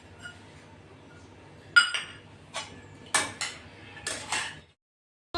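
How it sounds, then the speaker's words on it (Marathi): A spoon clinks and scrapes against a pan as kande pohe is mixed with coriander, several sharp metallic taps in an uneven rhythm, close and crisp over a low steady hum, ending in near silence. "तेही चांगलं मिक्स करून घेऊ."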